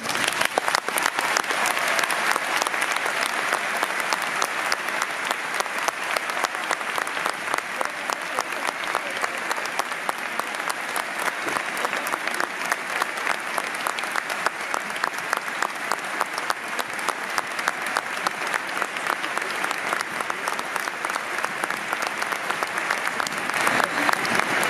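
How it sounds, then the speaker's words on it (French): A stadium crowd at a PSG vs Angers football match claps through a minute-long tribute, a dense, unbroken roar of applause from thousands of hands that holds steady and loud from start to finish. "nous vous demandons de respecter une minute d'applaudissements"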